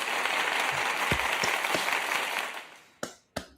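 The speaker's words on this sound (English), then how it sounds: "That deserves a round of applause." Canned applause sound effect played during a talk show: a dense wash of clapping that holds steady, fades out, then two sharp bursts close together at the end.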